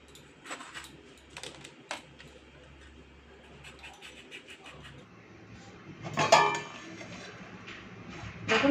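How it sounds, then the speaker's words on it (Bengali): Pointed gourds (potol) being cut with a knife for a potato-and-gourd curry, giving a series of light, irregular taps and clicks on a board, with a louder clatter of utensils toward the end. "চলুন আগে পটলগুলো কেটে নিই।"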